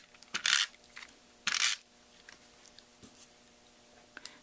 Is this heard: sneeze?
no